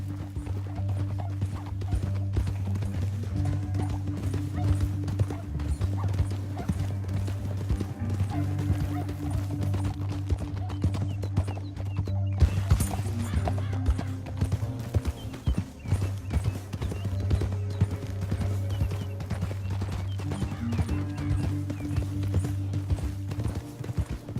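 Steady clip-clop of galloping horse hooves in Red Dead Redemption 2 over a droning musical backdrop, with a brief whinny in the middle; continuous and fairly loud.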